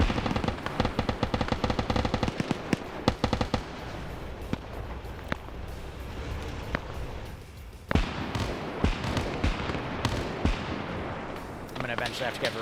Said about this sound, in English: he's got the Micro 180, which is a 180 round drum mag, and he's just suppressing with it